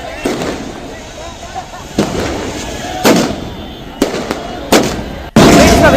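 Fireworks burst at a street celebration of a national victory, several loud cracking bangs spaced irregularly, each followed by crackling, with a dense final volley at the end.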